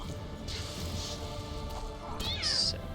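A cat meows in the fantasy role-playing game The Witcher 2. A faint background bed runs throughout before one sharp, high-pitched meow rings out near the end.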